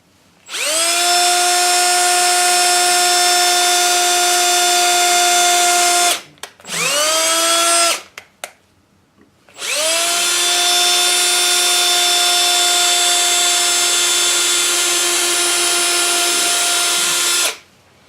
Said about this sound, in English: I'll just get a couple pilot holes started for these screws